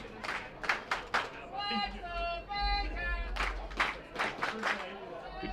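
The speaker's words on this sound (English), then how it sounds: "Good crowd here tonight" A lively crowd claps at a night baseball game in a stadium, scattered bursts of applause rising and fading while someone talks over them.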